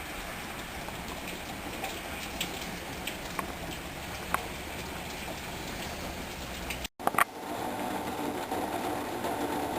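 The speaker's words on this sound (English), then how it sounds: "Because you can hear the rain." Rain falls outside a house on a wet April day, a steady, soft, even hiss with scattered faint drips, briefly cut off near the end before resuming.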